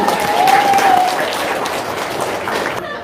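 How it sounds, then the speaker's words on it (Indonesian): A crowd in a talk session gives sustained applause, dense clapping that is loudest early and gradually thins, with voices audible in the mix. "Tepuk tangan dong."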